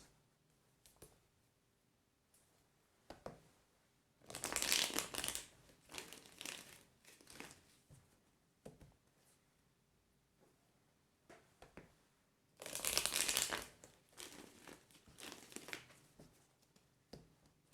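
Tarot cards are shuffled by hand in quiet surroundings, with two bursts of riffling flutter and scattered softer shuffling taps between them, no talking.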